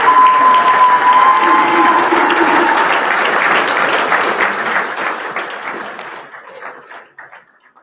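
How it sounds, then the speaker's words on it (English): A large audience applauds at a fire rescue recruit graduation ceremony, dense loud clapping that holds steady, then thins out and fades into scattered claps near the end, with a brief tone and faint voices underneath. "Let's have another applause for the newest members."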